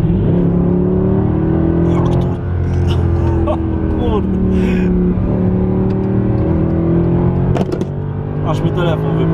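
Mercedes-AMG C63 with 457 HP and a stock exhaust revving loudly up close under throttle, a deep continuous engine roar with rising and falling pitch, with excited talk over it.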